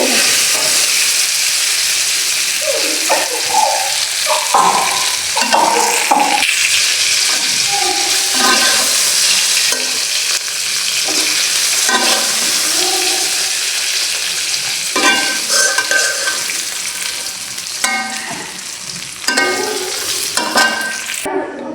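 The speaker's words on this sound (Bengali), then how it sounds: "মাছগুলো ভাজা হয়ে গেছে আপনার একটু মাছগুলো আমি নামিয়ে ফেলব" Fish fries in hot oil in a pan in a home kitchen, giving a continuous loud sizzle with intermittent scraping and stirring clatter from the utensil.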